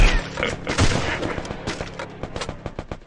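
A tuk-tuk explodes in the Free Fire video game with a burst of sharp blasts and rapid gunfire-like cracks, loud at first and then breaking into a quick run of separate bangs.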